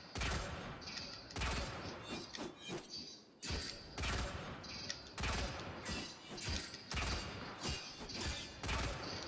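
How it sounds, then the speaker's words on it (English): Gunblade weapon fire in the Warframe video game, a run of loud, sharp blasts coming in quick bursts with brief gaps, close and dominant throughout, with a faint mechanical clatter between shots. "It's a freaking gunblade, people. Gunblade, and it sounds so great."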